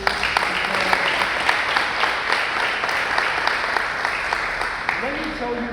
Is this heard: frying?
no